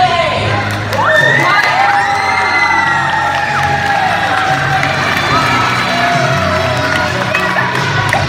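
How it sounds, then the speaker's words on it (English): A crowd of children at a school International Day event cheers and shouts loudly as a cheering section. Whoops and screams go on for the whole stretch. "Now the runner up cheering section."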